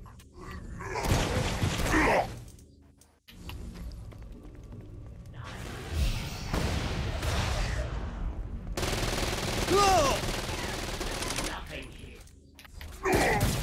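Lava rifle fired in Saints Row: Gat out of Hell, loud bursts of weapon fire and impacts come in separate waves, mixed with game effects and grunting voices, with a brief quiet gap between barrages.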